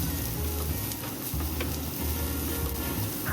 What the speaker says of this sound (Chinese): 彩椒清炒几下，